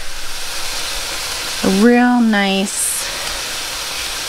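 Bacon-wrapped duck breasts searing in olive oil in a pan give a continuous soft sizzle that runs the whole time, with someone speaking briefly over it midway.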